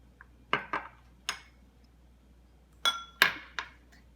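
A whisk sorts through flour, baking powder, salt, baking soda and ground cinnamon for blueberry and raspberry muffins. Sharp metallic clinks against the bowl come close and clear in two uneven clusters of quick strokes, separated by a quiet gap.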